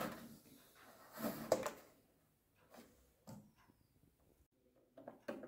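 Casing of a quartz heater being opened by hand, with a few scattered plastic clicks, rattles and handling knocks at close range, a louder burst of fumbling near the start and quieter taps after.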